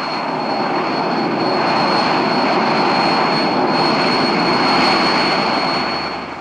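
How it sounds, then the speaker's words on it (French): Aircraft engine drone, likely an H-34 helicopter during a rescue demonstration at an air base in 1972, holding loud and steady for the full length with a faint high whine above, no speech. "Un hélicoptère H-34 faisant une démonstration de sauvetage."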